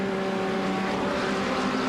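Racing engines of a McLaren and a Ferrari run side by side into the hairpin at Sebring in a racing video game, a steady, sustained drone of engine tones held at even loudness.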